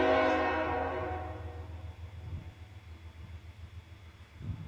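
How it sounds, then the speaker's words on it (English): A train horn blares close by on tracks running through a small town, loud at first with a rich harmonic blast, then fading and giving way to a low rumble of the passing train. "You hear that train coming?"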